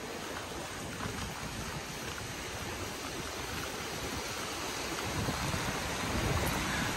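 Sea waves and wind at Co Thach beach in Tuy Phong, Binh Thuan, a steady broadband wash of surf and gusting air with no voices, swelling slightly louder toward the end.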